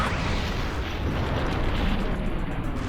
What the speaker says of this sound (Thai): ล่างก้าวหางมาแล้ว กระสุนสัตว์หาง หายซะ